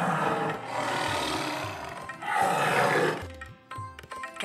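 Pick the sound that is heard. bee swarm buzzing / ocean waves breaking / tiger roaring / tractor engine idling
tiger roaring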